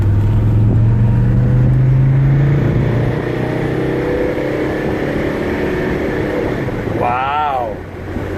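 A 1983 Mercedes-Benz 300D with freshly changed transmission fluid accelerates, its engine note rising steadily then dropping as it shifts gears, heard from inside the cabin over road and wind noise, with a voice briefly speaking near the end.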